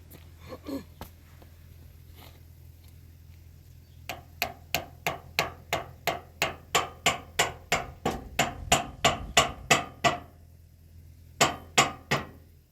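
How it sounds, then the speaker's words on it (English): Repeated metal hammer taps on a tandem axle trailer suspension part ring out in a steady run of about twenty strikes, pausing, then three more, over a low mechanical hum. "Alright, now can you tap it up with the hammer?"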